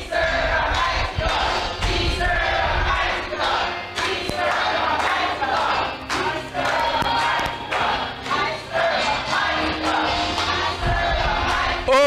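A church congregation at a prophetic and deliverance service shouts loudly and continuously as a crowd, with raised voices and cries sustained throughout and occasional thumps beneath.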